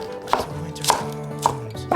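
Cabbage leaves are chopped with a kitchen knife on a cutting board, four sharp knocks arriving at a steady, unhurried pace, close and clear over faint background hum.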